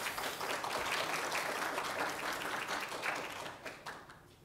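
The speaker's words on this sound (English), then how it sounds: "With a round of applause." An audience at a responsible quantum technology conference at Stanford applauds, steady dense clapping at moderate level that tapers slightly near the end.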